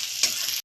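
Chopped garlic, chilli and ginger fry over a low flame in a pan, a bright continuous sizzle that cuts off abruptly near the end.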